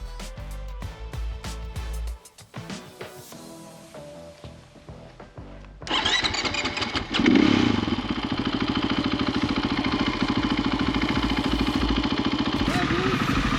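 A custom KTM 500 EXC-F dirt bike rides off-road over hard-packed dirt and deep sand in Southern California. Music plays at first, then a loud, steady engine and wind roar takes over and holds to the end.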